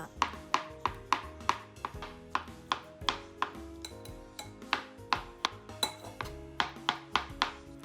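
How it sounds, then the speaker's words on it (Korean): Boiled egg whites being finely chopped with a knife on a board, a quick steady run of crisp close taps with a faint clink now and then, no voices. "흰자를 잘게 다져 줄게요."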